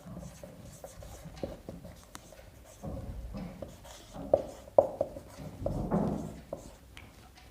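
Pen writing on paper while solving a class 10 maths exam paper, a close, quiet series of scratching strokes with uneven pauses and a few sharper taps.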